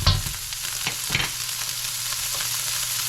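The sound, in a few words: pre-cooked bacon crisping in a hot pan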